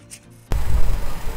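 Soft, slippery aloe vera pulp is rubbed on a grater for a homemade halwa, making a steady, close rasping scrape that starts abruptly and continues in uneven strokes.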